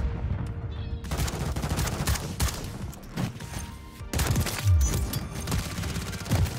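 Video game gunfire in a Call of Duty match: sharp, scattered shots crack in irregular bursts, some loud and close, others lighter, with brief pauses between volleys.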